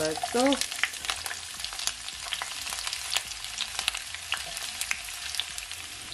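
Chopped onions and carrot hit hot vegetable oil in a pan, crackling and sizzling steadily with sharp pops and stirring scrapes while someone speaks briefly at the start.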